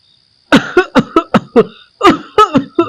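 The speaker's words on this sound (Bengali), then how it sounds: "বহুবার কাশিয়া ফেলিলাম" A rapid series of about ten harsh coughs, loud and close, coming in two quick bursts after a moment of silence.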